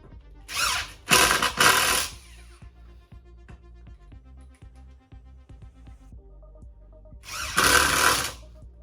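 A power drill drives screws into bunk bed posts, whining in three loud bursts, two close together near the start and one near the end. Quiet ticking and clattering fill the gaps between them.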